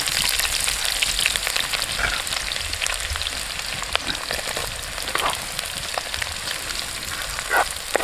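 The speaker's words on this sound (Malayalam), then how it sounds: "മുളക് ഒന്ന് ഇതായി കഴിഞ്ഞപ്പോൾ നമുക്ക് ഉള്ളി ഇട്ട് കൊടുക്കാം." Onions and chilli sizzling in oil in a pan for a tender coconut roast, a steady loud fry with occasional stirring clatter and spits.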